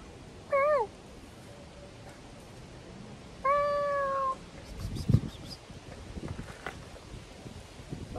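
A cat meows twice outdoors, a short clear call followed by a longer drawn-out meow a few seconds later, close to the microphone against light wind, with faint rustling and handling noise afterward.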